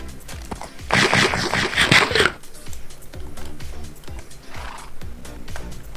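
A horse in the Minecraft video game gives a loud, brief whinny-like cry early on, followed by quieter game sounds and a soft thumping rhythm in the background.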